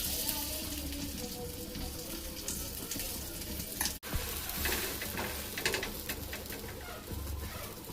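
Butter frying in a pan with a slice of bread for a cheese toast sandwich, a steady broadband sizzle lasting throughout, with a brief dropout midway and scattered clicks on top.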